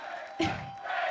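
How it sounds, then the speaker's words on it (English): A large crowd at an esports event lets out a sudden loud burst of cheering and shouting, a short roar over a noisy arena background. "Finally, Faker, there were a lot of cheers here for you today."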